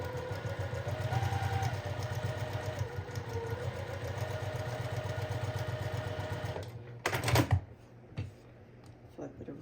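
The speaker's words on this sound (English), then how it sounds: "sewing a 1/4 inch on each side of the line we've drawn" Sewing machine stitching quilt patchwork seams a quarter inch from a drawn line, a steady close motor hum for several seconds before stopping, then brief handling clatter.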